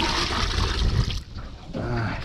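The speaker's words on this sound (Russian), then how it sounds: "Нате вам, друзья, свеженькие водички." Fresh water is poured into a container holding freshly caught fish on a spring fishing trip: a loud, rushing splash that breaks off briefly midway, then resumes as a steady pour with no voices.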